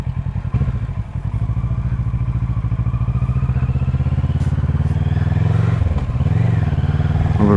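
A Kawasaki Versys motorcycle rides along at steady speed, its engine droning loud and close with a rhythmic pulse, slowing slightly near the end.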